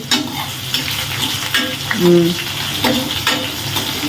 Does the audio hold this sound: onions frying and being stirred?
yes